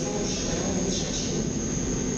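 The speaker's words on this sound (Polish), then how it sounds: "TU47 Trax, bardzo fajna lokomotywa" A Koleje Mazowieckie TU47 Trax locomotive-hauled double-deck train at Warszawa Śródmieście station, a steady, broad rumbling roar that stays loud and even throughout, with no voices.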